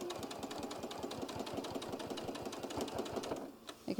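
A domestic sewing machine set to a long 3.5 stitch runs steadily along drawstring fabric, its needle clicking out a fast, even rhythm close by before slowing and stopping near the end.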